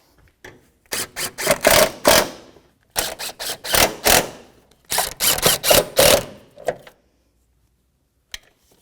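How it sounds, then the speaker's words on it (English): A 3/8-inch electric impact gun snugs up the shock absorber nuts on a 2008-2012 Jeep Liberty front suspension, firing three close, loud rattling bursts of rapid hammering, each about a second long, with a faint click at the end. "I'll just take my 3/8 electric gun and we'll snug them up"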